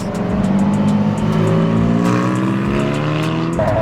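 A Porsche 718 sweeps past with a loud, rising engine note that dips and shifts as it goes by, then a fresh rev near the end, with no voices over it.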